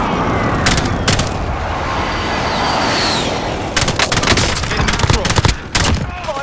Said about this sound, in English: Airstrike target marked. Take it out. This is Striker 3-1. Good copy. Strike inbound.